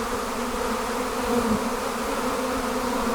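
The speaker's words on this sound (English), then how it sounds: "I just can't believe I'm in this bee swarm" A honey bee swarm being captured fills the air with a dense, steady buzzing drone, close and continuous throughout with no talking.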